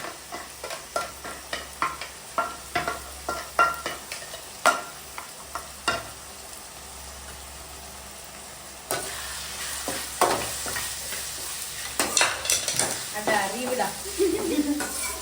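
Ginger garlic paste hitting a hot pan while cooking chicken gravy, a crackling sizzle with repeated rhythmic scraping and stirring strokes, a quieter pause midway, then denser stirring and frying.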